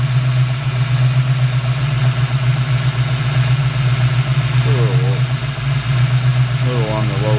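A V8 engine idles on all eight cylinders during injector testing, giving a steady, even low rumble that runs unbroken from start to finish, with faint voices briefly audible behind it.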